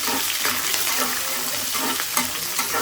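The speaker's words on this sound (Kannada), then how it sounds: "ಸ್ವಲ್ಪ ಹಸಿಮೆಣ್ಸಿನ್ಕಾಯಿ, ಕರಿಬೇವು ಮತ್ತು ಈರುಳ್ಳಿ ಎಲ್ಲ ಒಟ್ಟಿಗೆ ಸೇರಿಸ್ಕೊಬಿಡ್ತೀನಿ. ಇದು ಚೆನ್ನಾಗಿ ಫ್ರೈ ಆಗಬೇಕು." Green chillies, curry leaves and onion fry together in hot oil, a dense, continuous sizzle with soft stirring scrapes, close and steady throughout.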